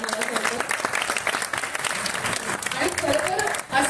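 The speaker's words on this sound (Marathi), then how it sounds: "दोघांसाठी जोरदार टाळ्या" Enthusiastic applause from an audience for two film actors, a continuous dense clapping that stays loud throughout.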